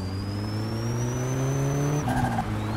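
A car engine in the driving game My Summer Car drones steadily as it accelerates with rising pitch, then drops abruptly near the end as the gear changes or speed falls, heard loud and close with no talk.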